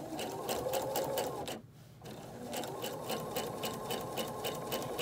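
Sewing machine stitching in the ditch while quilting, a close, rapid rhythmic clatter of the needle running steadily, briefly pausing for a moment before resuming at the same even pace.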